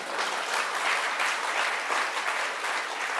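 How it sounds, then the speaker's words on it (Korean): A church congregation at a Methodist revival gathering in Incheon claps together, steady applause filling the whole room from start to finish. "박수 안 해?"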